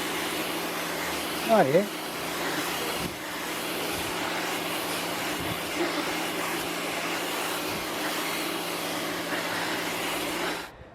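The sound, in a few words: Kärcher K3 high pressure washer cleaning concrete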